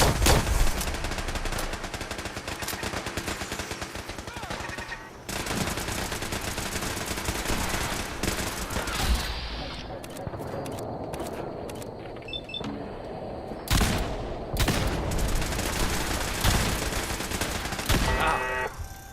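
Turrets in a video game fire long, loud bursts of rapid gunfire, broken by short pauses and a quieter stretch before the shooting resumes.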